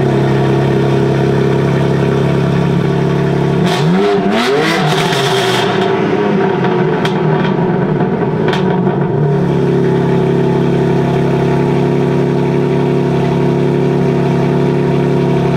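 A BMW F30 sedan revs with its exhaust valves closed, a steady idle drone swelling into a short, loud, muffled rev with rising and falling engine pitch, then settling back to idle, heard close.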